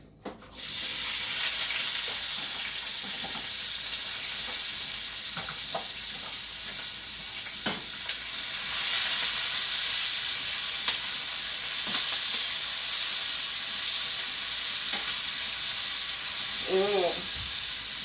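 Onions and garlic dropped into hot oil sizzle loudly and steadily up close, with occasional stirring clicks and a brief short tone near the end.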